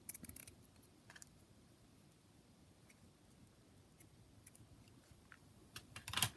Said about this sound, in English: So again, I'll just cut a little piece.